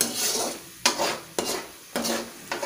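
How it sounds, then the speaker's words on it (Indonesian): Bay leaves and cooking spices for a Padang-style grilled fish paste are stirred in a pan, four distinct rhythmic scraping strokes over a close, steady sizzle. "kita masukkan juga daun salamnya ini kita aduk rata"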